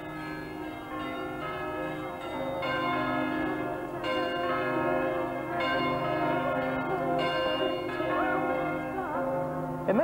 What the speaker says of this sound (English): he didn't record all the bells, just this one, the tenor